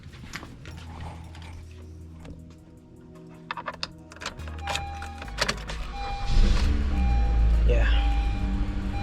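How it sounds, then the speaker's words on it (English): A car engine cranks and catches inside the vehicle, a rising rumble after some clicks and mechanical rattles, settling into a steady idle close by, with a few background voices. "Let's start the car."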